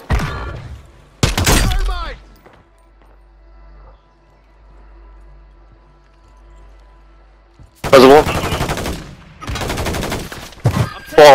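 Gunfire bursts in a shooter game: a sharp volley near the start, then a quiet lull with faint distant shots, followed by heavy, loud sustained firing over the last few seconds, mixed with game voices and chatter.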